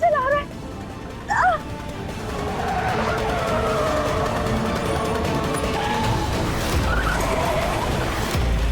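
Car driven recklessly, with loud tyre skidding and squealing as the engine roars close by, sustained for several seconds over dramatic music, with brief voices near the start.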